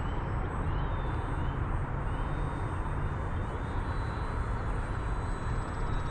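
An Xfly Tasman 1.5m radio-controlled electric airplane in flight, a steady whining motor drone with a faint high tone that stays even and fairly loud for the whole stretch, with no talking.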